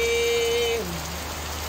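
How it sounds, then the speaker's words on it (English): Heavy rain pours down steadily as a broad, loud wash of close drops on surfaces, with a brief tonal whine fading out early and no talking. "Please send more rain until we are wet. Until we are soaked, it's a lot of rain."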